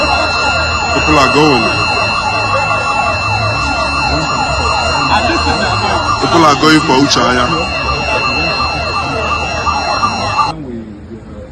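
Loud electronic siren wailing in rapid repeating sweeps at close range, continuing steadily before cutting off near the end, while people talk over it.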